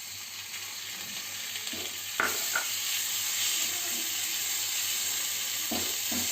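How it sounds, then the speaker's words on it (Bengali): Shrimp frying in a pan with pointed gourd, a steady close sizzle throughout with a few brief clatters of stirring. "চিংড়ি মাছটা দিয়ে ভালো করে ভেজে নেব।"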